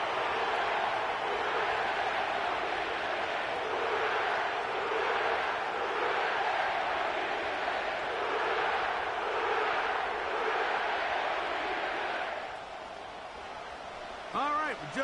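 Stadium crowd at the Caesars Superdome in New Orleans in an EA Sports football game: a sustained roaring, cheering crowd swelling in waves, quieting briefly near the end.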